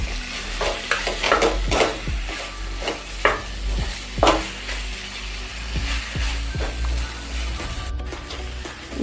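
Diced boiled potatoes go into a frying pan and are stirred through hot oil, bringing a constant sizzle under repeated spoon scrapes and knocks up close.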